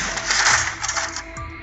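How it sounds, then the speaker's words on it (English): A paper tray slides out of an HP LaserJet P4015 printer with a short burst of plastic scraping and rattling clicks, close and fairly loud, fading to a faint hum. "first remove the paper trays"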